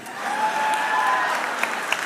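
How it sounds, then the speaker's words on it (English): Live audience applause, a brief burst of steady crowd clapping with a few whoops rising over it, loud and close. "An applaud for that."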